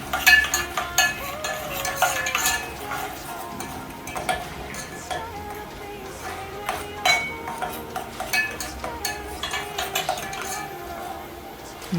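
A utensil scrapes and clinks against a pan as beef and spinach pasta sauce with milk and paprika is stirred slowly, giving irregular close metallic taps and scrapes over a low background.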